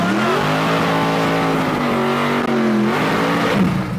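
A powerful engine in a Chevrolet Nova drag car revs and holds a loud, droning growl, its pitch dipping and rising again, heard up close and continuous.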